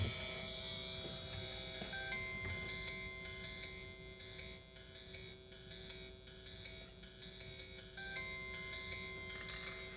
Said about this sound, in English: It's the Mandalorian theme. The song from the show.